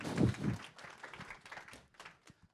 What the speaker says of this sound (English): Keep clapping, folks.